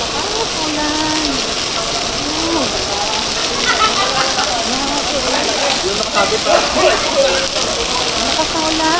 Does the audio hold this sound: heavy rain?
yes